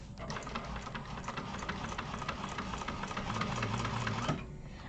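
A sewing machine stitching down a raw side of fabric, with a rapid, steady mechanical patter close by that runs continuously before stopping abruptly near the end.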